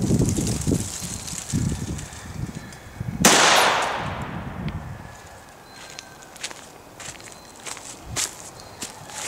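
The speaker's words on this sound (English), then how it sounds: "here we go with that Ultimate Defense out of the Ruger GP100 4-inch barrel" A single loud gunshot from a Ruger GP100 revolver with a 4-inch barrel firing Remington Ultimate Defense 38+P 125-grain ammunition, sharp and close, trailing into a brief decay. Outdoor wind and light shuffling sounds surround it.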